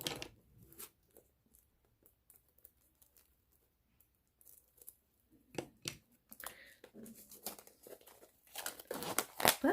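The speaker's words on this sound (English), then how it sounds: "Hold on, let me get my cutter again if I can find it." Sporadic crinkling and tearing of paper wrapping as a cutter slices open a package holding a book, quiet at first, then louder rustles and crunches in close bursts toward the end.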